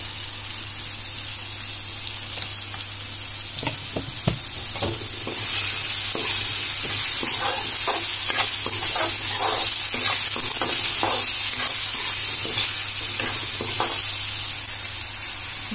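Chopped tomatoes sizzle in hot masala for a home-style aloo kadhi, with a steady frying hiss and repeated scraping stirs of a spoon in the pan, loud and close, growing busier midway with no talk.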